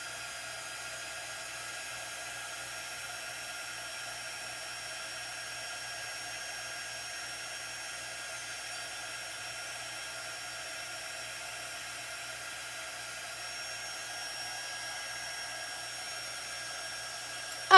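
A heat tool blowing on a chalk-painted metal cooler, a steady faint whirring hum that holds evenly throughout.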